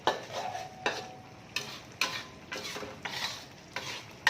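Mushrooms being stirred in a sizzling pan while cooking for homemade Malaysian nasi lemak, a soft steady fry under a series of sharp spatula scrapes and knocks against the pan, roughly every half second.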